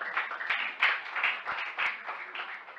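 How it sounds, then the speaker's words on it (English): A congregation claps at a church graduation service as a graduate comes forward, a steady run of moderately loud, fairly rhythmic hand claps from a crowd with no talking over it. "Let's clap for him as he comes."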